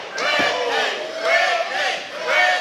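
A wrestling crowd at a women's match in the American Southwest roars steadily, swelling into loud cheering waves and chants from a packed arena over nearly three seconds.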